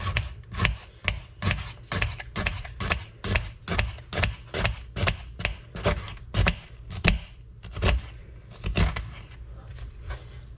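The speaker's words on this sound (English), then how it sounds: "it doesn't matter how thin you slice them" Onions sliced thin with a knife on a wooden cutting board, with a steady rhythm of crisp close-up chops and cuts, each stroke landing sharply against the board at roughly even intervals.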